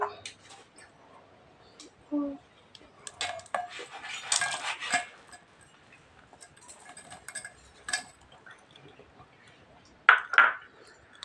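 A spoon stirs jaggery into a sweet raw mango mixture in a bowl with scattered clinks and soft scraping knocks, some louder taps near the end, and brief quiet talk in between.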